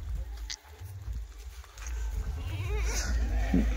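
Kathiawadi dairy goats on a cold morning at a goat market, with a few short bleats and a rising, bleat-like call near the end over steady low rumble and farm background noise, no talk.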